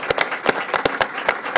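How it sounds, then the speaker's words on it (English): A small audience claps for Nashville Mayor David Briley at an indoor event; about eight distinct, fairly close hand claps in a loose, irregular rhythm, with no voices. "I just want to give him another big round of applause."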